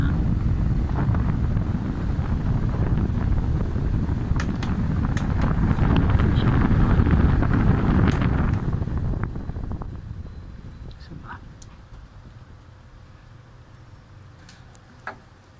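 An Asahi electric fan runs after a capacitor replacement, giving a loud, steady whooshing rush of air that holds for about eight seconds, then drops to a much quieter hum.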